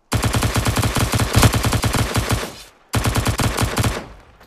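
Rapid automatic gunfire from a firearm in the VR game Blade and Sorcery: two loud, close bursts of fast, evenly spaced shots, the first lasting almost three seconds and the second shorter, each ending in a ringing decay.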